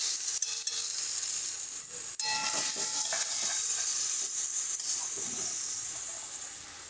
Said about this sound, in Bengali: জলটা দিয়ে ভালো করে নেড়ে চেড়ে দিয়ে দেবো আগে থেকে বেটে রাখা পোস্তটা